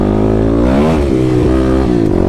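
A 2021 Kawasaki KLX300 dirt bike fitted with a Power Commander revs hard and loud, its engine note climbing and dipping in continuous pulls close by, with no voices.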